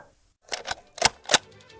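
A manual typewriter taps out a few sharp, close keystrokes in a short burst after a moment of quiet. The clacks are heard alone.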